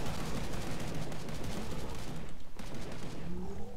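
Rapid, dense gunfire from a Killing Floor 2 firefight, loud and continuous with overlapping shots and a brief lull near the end, all of it foregrounded with no speech.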